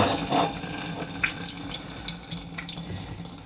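Water trickles and splashes steadily from an unscrewed household pipe into a bowl below, a quiet continuous flow with small drips and splatters and no talking.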